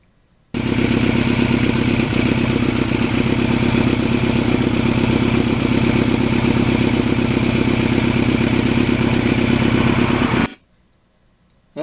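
A restored 1989 Kawasaki Ninja GPX750R idles steadily and close up, its engine holding a loud, even, throbbing rumble for about ten seconds before cutting off abruptly into silence.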